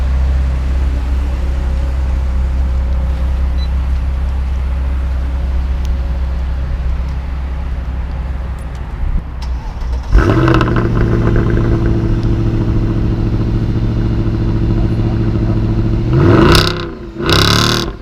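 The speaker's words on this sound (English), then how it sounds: "We're gonna get a cold start on the Merc." A Mercedes idles with a steady low rumble before the engine catches and settles into a louder, rough cold-start idle, with a couple of short revs near the end, close by.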